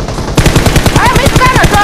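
Loud, rapid automatic gunfire rattles in a shooting video game, a continuous dense burst of shots close and alone after a brief quiet start, with faint voice-like tones over the top.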